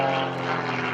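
An aerobatic propeller airplane roars past at an airshow, its engine a loud, steady drone with a slight shift in pitch across a brief pass.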